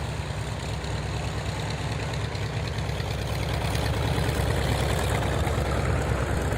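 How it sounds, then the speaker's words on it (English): Skyraider piston-engined aircraft taxi in at Duxford, their heavy radial engines rumbling in a deep, steady, slightly knocking drone that swells gently toward the end, close and loud with no talk. "The Sky Raiders taxiing in."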